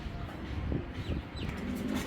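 Pigeons cooing in a loft among a breeder's collection, soft low throaty coos repeating a few times over steady background noise, fairly close.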